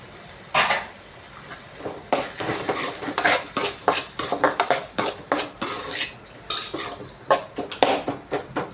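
Two sliced tomatoes going into a pan of chicken gravy, with a metal spoon scraping and clinking against the pan in quick, uneven strokes as they are stirred in, close and fairly loud, with no voices.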